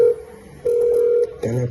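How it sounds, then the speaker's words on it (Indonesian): A telephone line goes dead in a school play, giving steady single-pitch tones separated by short gaps and ending in a brief harsher tone burst. "Telepon putus."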